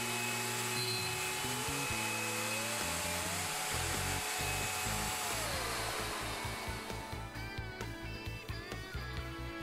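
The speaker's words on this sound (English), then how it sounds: "Then route counterclockwise, running the guide pin against the guide to clean up the tenon." A router cutting a tenon on a Leigh FMT Pro mortise and tenon jig whines at high speed with shifting pitch, then breaks into a rapid series of rhythmic chattering bursts as the bit works the wood.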